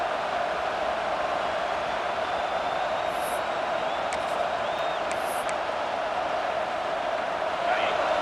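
Stadium crowd in EA Sports College Football 26 forms a steady, distant roar of massed voices, even and continuous with a few faint whistles above it.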